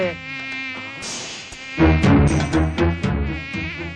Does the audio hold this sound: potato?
no